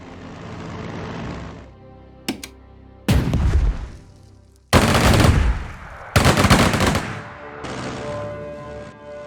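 Battle sounds from the WWII strategy game Strategic Mind: Blitzkrieg: several loud, abrupt bursts of rapid gunfire and heavy artillery blasts, separated by short gaps of rumbling background, close and forceful.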